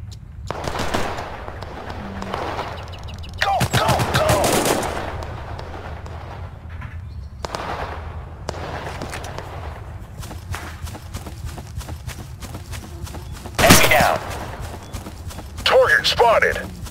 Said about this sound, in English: I'm under heavy fire.